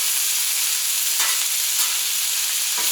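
Onions frying on a Camp Chef burner at medium heat, with a loud, steady, close hiss of sizzling that holds throughout, with a few faint clicks and stirring taps.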